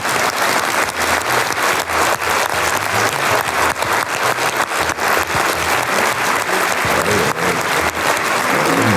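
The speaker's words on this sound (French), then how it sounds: "J'aimerais qu'on leur adresse vraiment un concert d'applaudissements" Sustained applause from a conference audience at a national meeting of urban planning agencies, loud and steady with dense overlapping claps throughout, no voices standing out.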